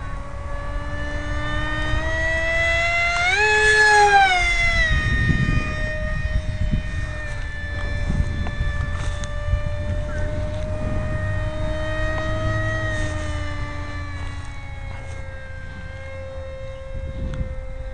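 F5E RC model jet in flight, its turbine whine sweeping up in pitch as it passes, then holding a steady high tone at cruising throttle, fairly loud and continuous.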